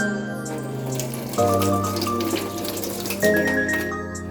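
An iron nail is rinsed under a running tap, giving a steady splash and hiss of water into a sink. The pitch of the flow shifts a couple of times as the nail moves through the stream. No voices are heard.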